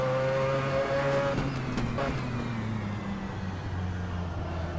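Race car engine from the Assetto Corsa 1.13 racing game, a high-pitched continuous roar with rising and falling harmonics as it revs and shifts, loud and close throughout with no talk.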